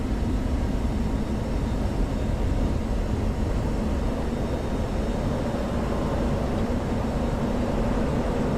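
Jet engine roar of an F-16 Viper or F-18 Hornet taking off in afterburner in DCS World, a steady, loud, broadband rumble that holds constant throughout with no talk.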